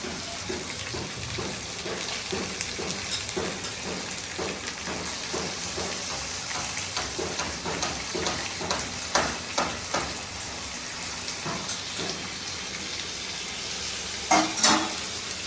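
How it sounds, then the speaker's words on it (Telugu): Raw prawns fry in a pan over browned ginger garlic paste, giving a steady close sizzle dotted with crackles and small pops, with a few sharper spatters near the end. "అల్లం వెల్లుల్లి పేస్ట్ అయితే ఇప్పుడు వేగిపోయిందండి రొయ్యలు వేసేస్తున్నాను"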